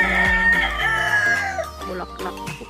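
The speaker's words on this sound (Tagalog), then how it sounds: "Pasensya na po kayo sa ingay ng mga manok." Several chickens cluck while a rooster crows loudly and nearby, with the calls overlapping across a home garden setting, no talk heard.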